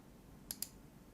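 Two quick, crisp clicks of a computer mouse about a tenth of a second apart, close and fairly soft against a quiet background, with no voices.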